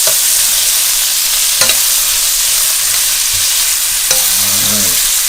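Shrimp and peppers sizzle steadily in a hot pan, a constant broad hiss with two brief scraping stirs, close and alone with no talk.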